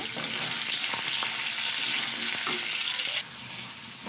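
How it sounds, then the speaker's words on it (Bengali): Pumpkin pieces frying in oil for a mixed vegetable dish, a dense close sizzle with light stirring clicks that drops abruptly in intensity near the end. "কুমড়োগুলোকেও আমি একই পদ্ধতিতে ভেজে নেব।"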